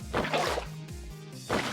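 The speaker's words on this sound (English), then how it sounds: "Filling or emptying a bucket." Minecraft bucket being filled or emptied: a few short watery sloshing splashes in a row, close and fairly loud, with no talking.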